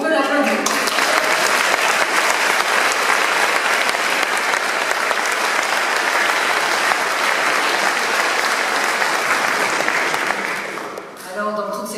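Sustained audience applause fills a hall at a public event in Strasbourg, loud and dense for about eleven seconds before tapering off as a voice resumes.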